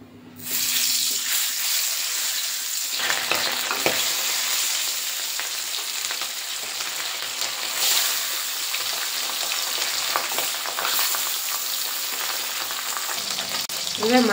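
Pabda fish fry in hot mustard oil in a wok, a loud continuous sizzle that bursts up as the fish go in and keeps crackling close and strong throughout.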